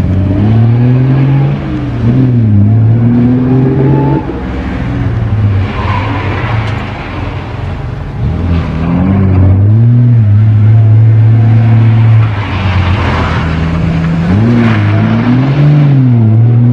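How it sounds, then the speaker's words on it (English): An Austin Healey rally car at a historic rally stage accelerates hard past, its engine revving loud and close through several gear changes, with tyre scrabble on the surface, then pulling away. "we've got a Healey coming in."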